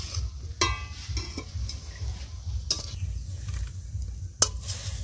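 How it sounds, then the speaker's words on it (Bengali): Steamed tewra greens frying with a dried red chili tempering in oil, a soft steady sizzle broken by a few sharp scraping clinks of a spatula against the pan. "তেওড়া শাক ভাপানো হয়ে গেছে, এবার লঙ্কা ফোড়ন দিয়ে ভেজে নেবো।"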